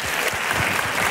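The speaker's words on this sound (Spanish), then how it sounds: "Le pido un fuerte aplauso para todos porque me encanta." A studio audience at a tribute gala of copla singing claps for the performers, a sustained, even crackle of many hands at moderate level without speech.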